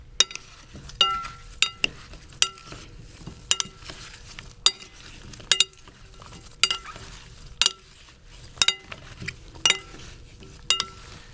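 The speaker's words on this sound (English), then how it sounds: "Now all we need to do is toss it together." Peach and tomato salad tossed with vinegar in a bowl, utensils clinking against the dish in a steady series of sharp taps and scrapes, close and clear with no talk.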